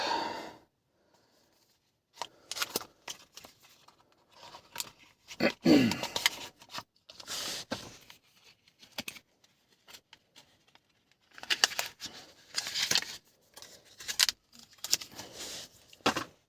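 An Apple AirTag being unpacked, with intermittent crinkles, rustles and small clicks of cellophane-sealed packaging in scattered bursts, close up and with no talk.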